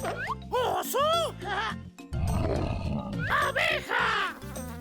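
A bear roars in a low, rough burst in the middle, set against cheerful children's music with bright chirpy sounds before and after.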